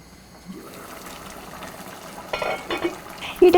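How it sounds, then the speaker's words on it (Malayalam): Duck mappas curry stirred in a pan, with quiet intermittent scraping and soft wet shuffling bursts that grow a little louder toward the end over a low background. "ഇടയ്ക്കിടെ ഇളക്കി കൊടുക്കണം."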